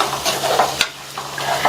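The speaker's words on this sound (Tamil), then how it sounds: "நல்லா ஒன்றா மிக்ஸ் பண்ணி விட்டுக்கலாம்." A spoon stirs a mixture of chopped capsicum and garam masala in a pan, the gentle scrape-and-sizzle of frying vegetables heard up close, with a light tap against the pan.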